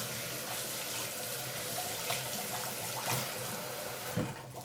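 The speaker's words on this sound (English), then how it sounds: "I'm just going to give my hands a quick wash." Tap water runs steadily into a kitchen sink while hands are washed, a continuous close hiss and splash with small shifts in the flow, no voices over it.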